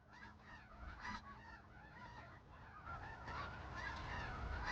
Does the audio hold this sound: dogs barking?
no